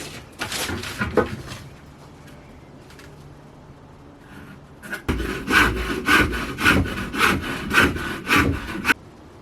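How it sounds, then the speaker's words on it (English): Wood being sawn by hand while fitting a Mini Heki skylight in a police van conversion: scattered scraping at first, then a run of steady, rhythmic back-and-forth strokes, close and fairly loud. "So wood's all cut."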